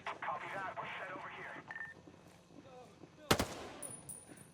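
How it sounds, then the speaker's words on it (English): A sharp gunshot cracks out in the Ghost Recon Breakpoint video game, loud and brief, after stretches of voices talking, with a faint background rumble and electronic tones following. "We got gunfire nearby."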